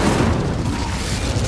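The Incendio fire spell is cast in the video game Hogwarts Legacy. A loud, dense, booming blast roars steadily for over a second.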